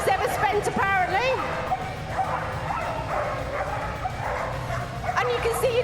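Excited dogs at a canicross display at Crufts 2013, several yipping, whining and barking in quick bursts close by, over a steady hubbub of crowd noise with people talking throughout.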